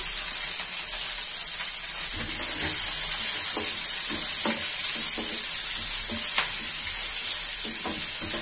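Onions sautéing in a pan for a carrot and beans stir-fry, a steady close sizzle and frying hiss with soft, irregular stirring scrapes throughout, no voices.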